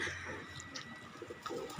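Pigeons kept by a breeder coo softly and intermittently in a quiet coop, with soft low murmurs under faint background noise and no talk.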